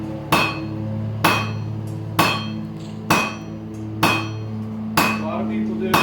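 A blacksmith hammers a taper on nail stock at the forge, with steady ringing blows about once a second, six strikes each with a bright metallic clang and a short decay over a constant hum.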